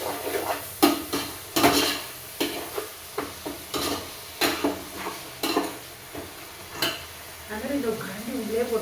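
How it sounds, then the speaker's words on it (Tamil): Tomatoes sautéing in a pan for vegetable biryani give a low sizzle, repeatedly broken by sharp metal ladle scrapes and knocks against the pan at an uneven rhythm. "தக்காளி வதங்கட்டும்."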